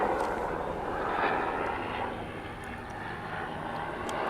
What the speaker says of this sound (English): No, it's a helicopter.